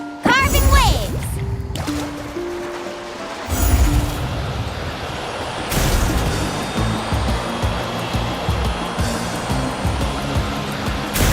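Waves carved through in the game Genshin Impact, a loud rushing surf-like swell with game music and effect tones layered over it, continuous throughout, with a voice speaking over part of it.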